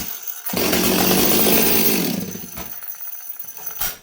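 A Stihl 026 chainsaw restarts and roars loudly at steady high revs for about two seconds, then drops back to a rough, burbling idle, close to the listener.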